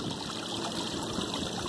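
Water from a 500GPH bilge pump splashes steadily into a solar-powered garden pond, a continuous, close, even rushing trickle with no voices.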